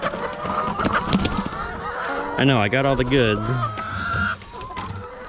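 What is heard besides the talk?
free-range chickens squawking around feeder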